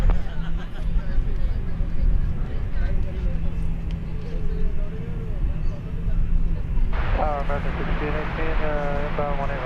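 Airliner, United 2005, taking off from runway 18 left at DFW Airport in the evening, a steady heavy engine roar with broad rumble over several seconds, with radio-style talk and background chatter layered over it.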